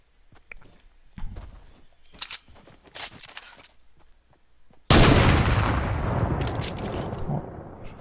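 Gunfire in a video game: scattered sharp cracks and thuds, then one loud shot bursts out midway and rings off slowly into a long, fading tail.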